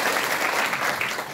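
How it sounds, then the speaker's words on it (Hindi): Strong applause from the audience at a DXN business meeting in Janakpur, Nepal, a short dense burst of many hands clapping, loud and close throughout. "जोरदार तालियां।"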